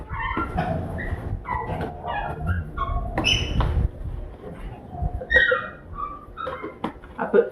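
Several dogs whimper, yip and give short barks in a restless, uneven run of high cries close by, while a person talks over them.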